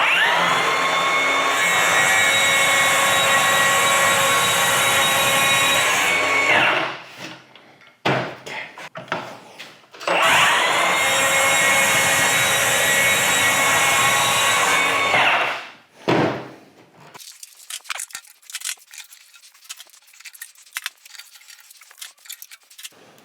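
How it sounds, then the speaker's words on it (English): A track saw cuts through a board on a workbench, two long loud sustained whining runs of several seconds each, every one ending with the motor spinning down, followed by scattered knocks and handling clatter. "We'll head over here to workbench and we'll start cutting this with the track saw."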